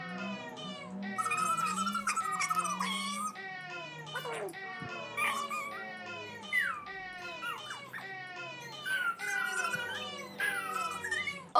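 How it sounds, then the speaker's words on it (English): A cat meows again and again up close, long wavering cries following one another with short gaps, fairly quiet and with nothing else around them. "I think it's time for some cat."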